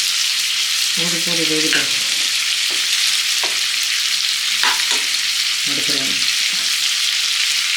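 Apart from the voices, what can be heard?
frying in a kadai for prawn fry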